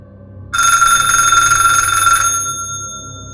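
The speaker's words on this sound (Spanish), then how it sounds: "Sonó el celular de Javier" A cell phone rings with a bright electronic trill, one sustained burst of about two seconds that then fades, close and loud in a quiet room.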